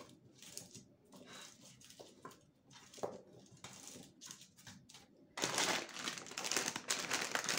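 Plastic packaging of frozen Turkish börek crinkles and rustles as it is opened by hand, with irregular crackles close by. The sound grows louder and denser toward the end, and there is no talk.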